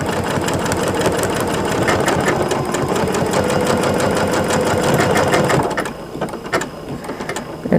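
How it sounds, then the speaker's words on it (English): A sewing machine with a buttonhole foot runs a straight stitch outline, a loud steady mechanical whir lasting about six seconds before slowing and stopping into lighter clicks. "we're just going to run the machine. This is going to just give me a straight stitch outline."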